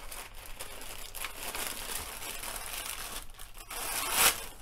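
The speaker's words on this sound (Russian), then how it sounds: "Следующий сейчас пакет запакую." Plastic bag crinkling and rustling while microgreens (calabrese) are packed by hand, close and continuous with a sharper crackle near the end, no talking.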